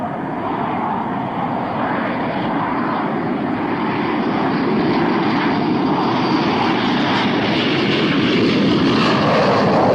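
Airliner jet engines roar at Abu Dhabi international airport. The broad, steady rushing sound holds loud and constant throughout, with no voices.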